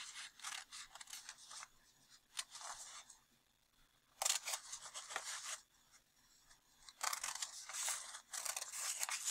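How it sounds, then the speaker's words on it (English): Scissors snip paper along a drawn line in several bursts of quick, crisp cuts with short pauses between them, faint and close, with no voices. "Then I'm going to cut along my line that I just drew"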